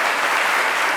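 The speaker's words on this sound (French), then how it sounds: "Applaudissez." An audience claps loudly and steadily, a dense wash of many hands filling the room for a short burst with no voices over it.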